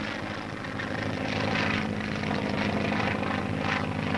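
A 1942 training aircraft drones in flight, a steady loud propeller-engine roar with a throbbing low hum that swells slightly, no voices.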